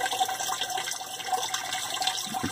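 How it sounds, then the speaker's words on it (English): Water pours steadily through a mini sluice bucket, a soft continuous trickling and splashing at close range. "we're going to get some water running through it"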